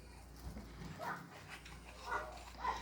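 A small pet dog yaps in a quiet room, giving about three faint, short barks spaced a second or so apart against low background hum, with no talking over them.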